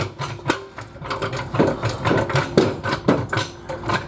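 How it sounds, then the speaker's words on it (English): A power tool rattles and whirs in short, loud bursts up close while four transmission mount bolts come out during a car's manual gearbox conversion, with no talking over it. "We're undoing the trans mount bolts, and there's 4 of them."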